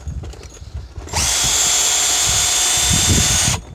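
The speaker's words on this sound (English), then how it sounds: "I take our drill brush" A power drill with a brush attachment, used to scrub calcium and lime buildup off an RV water filter, whirs loudly and steadily for a couple of seconds with a high spinning whine, then stops abruptly.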